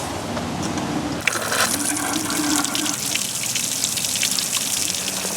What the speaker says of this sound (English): So let me turn on the hoses real quick.